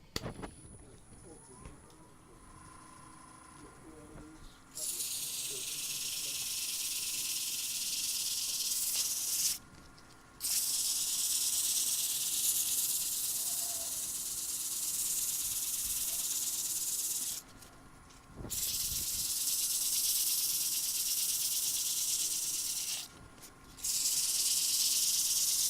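A floor being sanded with 220 grit sandpaper gives long stretches of steady, loud hissing abrasion that stop in short gaps between passes, with no talk.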